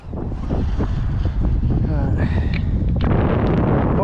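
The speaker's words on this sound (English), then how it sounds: "God, it's windy." Strong gusty wind buffets the microphone on a riverbank on the Ribble during an evening fishing session, roaring loud and continuous with rumbling bursts. A faint voice sits beneath it.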